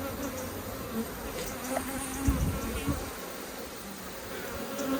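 A soft, steady hum of many honey bees buzzing close by in an open hive, with occasional handling noises and faint rustles in the background.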